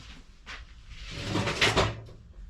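A utility knife drawer rattles open during a search for a knife, a couple of soft knocks followed by a louder wooden scrape and clatter, up close and alone with no talk.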